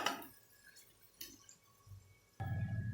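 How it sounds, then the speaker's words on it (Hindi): Leftover water from boiling besan gatte gets poured into roasted masala in a cooking pan. After quiet kitchen sounds, a sudden loud, steady liquid rush begins near the end and keeps going. "तो देखिए जो बेलों का पानी बचा था हमने वो जो बचाया था वो इसमें चला जाएगा।"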